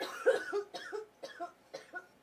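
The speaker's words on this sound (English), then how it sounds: "she back there coughing" A person coughs in a short burst of about five dry, rapid coughs, close by and moderately loud.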